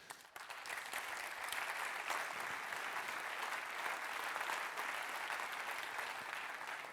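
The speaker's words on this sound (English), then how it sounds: "I believe our panelists have deserved a strong round of applause" Sustained audience applause at a railway conference session, a steady dense wash of clapping from a large room lasting throughout, with no talk.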